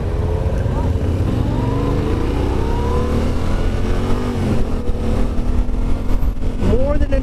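A Yamaha Tenere 700 adventure motorcycle engine drones loudly and continuously under wind rush while riding, pitch rising gradually as it accelerates, with a voice briefly audible over the engine.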